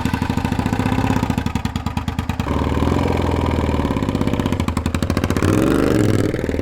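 A Suzuki SV650 motorcycle, long abandoned and now rebuilt, is ridden on its first run in five years, its engine revving in steady pulsing bursts and shifting between gears, loud and close with no talk.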